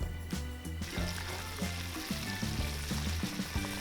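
Chicken karaage pieces frying in oil heated to about 275 Fahrenheit for a first low-temperature fry, a loud, dense sizzle that continues without a break, with no talk.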